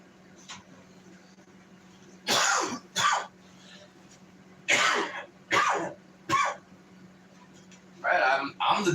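Around six harsh, loud smoker's coughs burst out close by, spaced irregularly, with a low steady hum between them.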